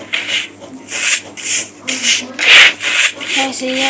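Broom sweeping a floor in the video game Internet Cafe Simulator, a series of rhythmic scratchy rasping strokes, roughly eight in a row, close and fairly loud, with no talking.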